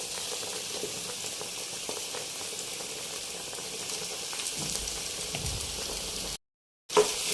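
Boiled cassava (kappa) is stirred in a hot pan for a Kerala dish, with a steady close sizzle, faint scraping of the stirring, and a brief cut to silence near the end.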